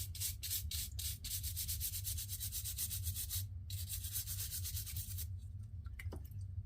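A fishing reel being rubbed and cleaned up close, giving steady rhythmic scrubbing strokes that continue almost without a break before a few quieter handling sounds at the end.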